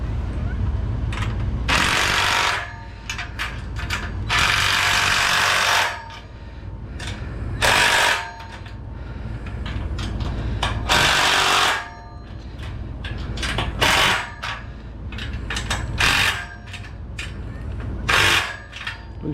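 A power tool drives bolts tight on a homemade CNC router table, giving repeated loud, close whirring bursts of one to two seconds separated by short pauses and shop noise.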